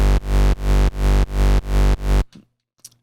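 A hardcore rave bass synth built in Harmor pumps out six loud, buzzy, evenly spaced sustained notes in a steady rhythm, then cuts off into near silence with a couple of faint blips.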